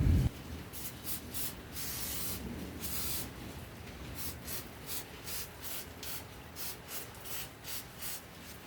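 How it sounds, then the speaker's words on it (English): Short hissing bursts from a WD-40 aerosol can spraying an engine cylinder wall, repeated in a fairly regular rhythm after a longer initial spray, close and moderately loud. "spray the cylinder wall, spray these stones down"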